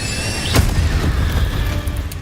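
Incendio fire spell cast in Hogwarts Legacy, a sudden whooshing boom about half a second in, followed by a rumbling fiery tail over low game ambience.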